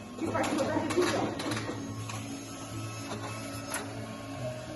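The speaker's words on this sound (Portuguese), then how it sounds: "Depois que eu imprimo, eu mando para a impressora em Braille." A Braille printer embossing a page gives a steady mechanical whir under a continuous low hum, with sharp repeated clacks from the print head. Quiet talk runs faintly underneath.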